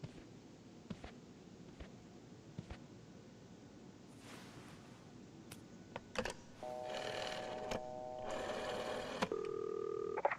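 A telephone by a hotel reception in a video game dials the police: faint clicks and handling taps, then a run of short dialing tones and a ringback tone near the end, fairly quiet.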